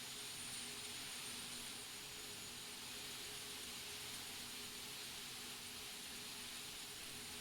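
Mil Mi-8 helicopter turbine spooling up in DCS World, a steady high whine and broad rushing roar with faint tonal hum, unbroken and alone without talk.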